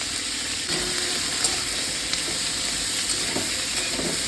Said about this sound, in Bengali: সব সবজিগুলো একসঙ্গে দিয়ে ভেজে নেব।